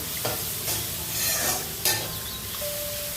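Curry leaves crackle and sizzle loudly in hot oil, with the scrape of a spoon stirring the pan a few times.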